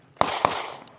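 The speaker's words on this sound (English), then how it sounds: "The obligatory mag dump." A handgun fired quickly to empty the magazine: two sharp, loud shots about a quarter second apart, then a fainter third crack, outdoors at close range.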